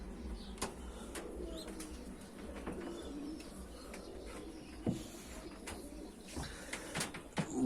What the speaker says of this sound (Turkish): Güzel bir iki tane bal kafa yavrumuz var.